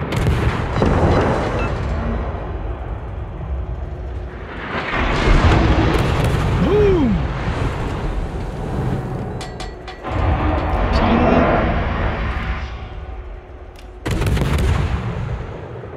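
Guns blast repeatedly in a cartoonish fish shooter video game, loud booming bursts layered with a dense game soundtrack and effects, with brief pauses between volleys.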